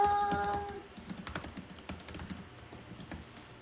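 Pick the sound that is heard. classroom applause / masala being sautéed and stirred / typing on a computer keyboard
typing on a computer keyboard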